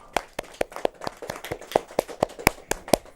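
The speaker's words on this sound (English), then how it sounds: "So can we give them a round of applause, please?" Scattered hand claps ring out, about a dozen sharp claps spread unevenly over a few seconds, sounding like a small group applauding sparsely.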